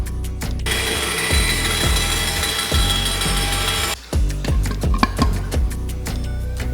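Woodworking band saw in a workshop running with a steady whine, punctuated by repeated sharp clicks and knocks from the machine, a brief drop near the four-second mark, then resuming with more clattering ticks.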